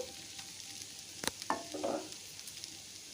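Cauliflower and softened vegetables stirred in a pan after the lid is lifted, giving a few scraping clatters and a soft sizzle close by, with no talk.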